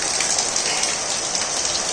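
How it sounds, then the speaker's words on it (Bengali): Heavy rain falls in a dense, loud, unbroken roar of drops hitting surfaces close by, with no voices over it. "দেখেন দেখেন দেখেন দেখেন কীরকম বৃষ্টি হচ্ছে"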